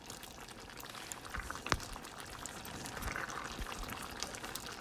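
Leftover chickpea cooking water poured into a simmering chana masala curry: a quiet, steady trickling pour with light bubbling beneath, close and faint, with no talk.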